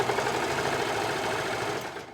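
A sewing machine runs top stitching on a child's garment to reinforce a pocket seam, a steady close mechanical whir with rapid regular ticking that holds for about two seconds.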